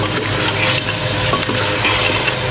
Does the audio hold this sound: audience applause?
no